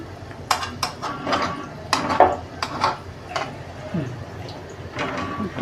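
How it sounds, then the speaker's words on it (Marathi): A metal spoon stirs and nudges bhaji fritters frying in oil in a pan, giving repeated clinks and scrapes against the pan over a soft background sizzle. "आता हे चमच्याने आपण त्याला असं हलवून सोडून घेऊया"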